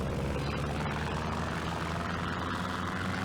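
A propeller airplane's engine drones continuously during takeoff in the FlightGear flight simulator game, a dense, loud, steady roar that holds throughout with no voice over it.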